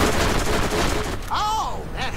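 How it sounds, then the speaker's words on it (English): Mortar strike explosions in the video game Borderlands: a dense, loud crackling barrage of blasts, followed by whistling, warbling tones as shells fall in the second half. "Mortar strike incoming, get down."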